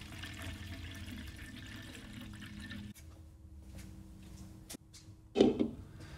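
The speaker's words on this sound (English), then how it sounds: "Open the faucet and let the sanitizer push out all of the water." Water rushes out of a jockey box faucet as sanitizer pushes it through, a steady liquid hiss that cuts off, followed by a click and a short gurgling splash.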